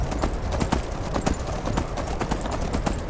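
Horse hooves clip-clop steadily on a snowy night in the video game Skyrim, a brisk, even rhythm of close, clear footfalls running throughout with no talking.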